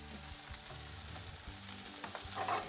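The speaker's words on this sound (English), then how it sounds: "now I'm going to throw the mushrooms in. And I kind of want to stir those in" Mushrooms sizzle and fry in a pan while being stirred, a soft steady crackle at modest volume with faint scraping of a utensil.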